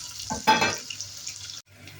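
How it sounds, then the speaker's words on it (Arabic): Fava beans with tomato are stirred and lightly sautéed in a pan. A close, short burst of sizzling and scraping swells then fades, with a brief break before the frying hiss resumes. "برضو تشويحه، مش هنسويه قوي"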